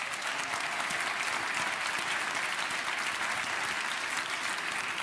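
Audience applause at a poetry award gala in a theatre, Teatr Wybrzeże in Gdańsk, steady and dense clapping from a large crowd sustained throughout with no speech over it.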